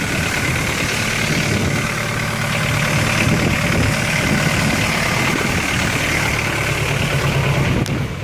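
A McCormick tractor engine idles outdoors in bitter cold after a cold start, a loud, close diesel rumble with a steady rough knock throughout.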